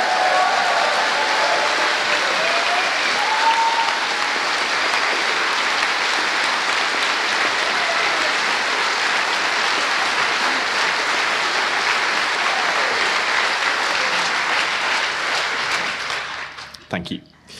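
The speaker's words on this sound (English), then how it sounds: "So I'm going to make you clap again." Large crowd of about 2,500 people applauding at a festival closing ceremony, a dense steady roar of clapping that fills the space and holds for around sixteen seconds before tapering off abruptly.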